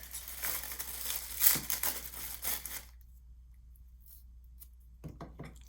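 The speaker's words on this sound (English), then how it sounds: "Just cutting some double-sided tape that I've been using, just like a thinner strip." Scissors snip through a thin strip of double-sided tape in a burst of close, crisp cuts with crinkling, then quiet, then a couple more faint snips near the end.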